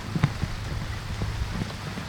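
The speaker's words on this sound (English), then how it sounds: "It's been constantly raining since morning from the time that we have come." Steady rain falls outdoors at a hotel in Karjat, a soft continuous patter with scattered droplet taps close by and no voices.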